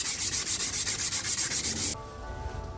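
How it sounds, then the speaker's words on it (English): Rhythmic back-and-forth sanding on Jeep Grand Cherokee ZJ body armor, steady close rasping strokes for about two seconds before cutting off to quiet room noise. "I'm just going to continue sanding this, and we'll get back to you when we're ready for primer"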